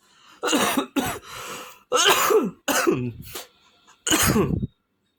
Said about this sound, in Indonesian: Sampai batuk-batuk saya.